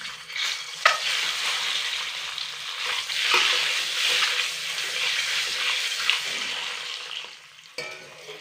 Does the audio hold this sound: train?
no